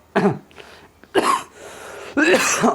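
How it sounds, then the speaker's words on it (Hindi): Three sharp, harsh bursts spaced about a second apart, close to the microphone, like someone coughing or clearing the throat repeatedly. "खांसी है भैया आ जाती है"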